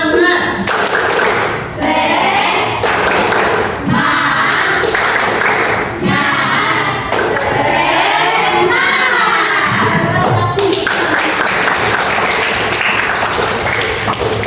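A school class claps the rhythmic 'tepuk semangat' chant together, loud, patterned clapping bursts in groups with children's voices chanting along, filling the room steadily.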